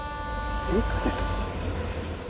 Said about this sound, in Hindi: ये तो ट्रेन की आवाज है।